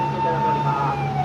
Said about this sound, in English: police cars going by